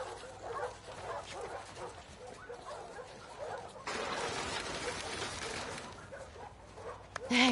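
A dog in the video game The Last of Us Part II barks and whimpers with short yips amid ambient game sounds and bird calls, moderately loud, with a louder burst near the end.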